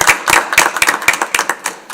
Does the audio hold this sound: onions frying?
no